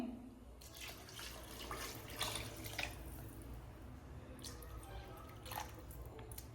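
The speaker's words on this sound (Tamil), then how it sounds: "ஸோ நான் 4 கப் எடுத்திருக்கேன், 6 கப் தண்ணி ஊற்றுறேன்" Water poured from a cup into a pot of rice for white biryani, six cups over four cups of rice. Soft splashing and trickling comes in faint uneven bursts, close by.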